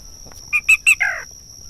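A recorded black rail call played over a speaker in a marsh during a bird survey: three sharp, evenly spaced notes and a lower, rougher fourth note, with a steady electronic hum behind.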